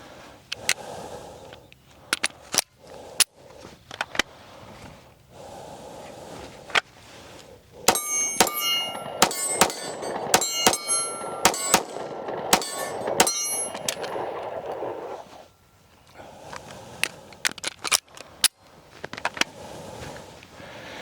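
An H&K CC9 pistol fires in a string of sharp, loud reports at an outdoor range, with rapid shots clustered in the middle and spaced single shots before and after, each ringing briefly with a metallic clang.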